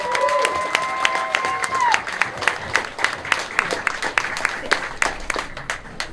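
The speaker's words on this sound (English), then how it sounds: "Let's give him a round of applause" A stadium crowd gives a sustained round of applause with cheering for a football striker, dense clapping rolling steadily with sharp individual claps standing out, loud and continuous.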